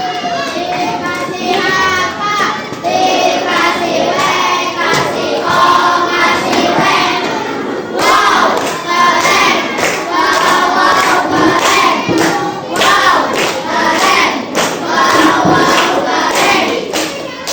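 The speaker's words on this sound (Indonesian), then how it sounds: "Berikan tepuk apresiasi untuk kelompok 1" Students in a classroom give a rhythmic group appreciation clap for a presenting group, a loud continuous run of patterned claps and chanting voices with children's shouts mixed in, lasting many seconds.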